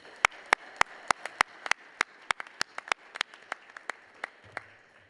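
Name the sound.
audience applause at commencement ceremony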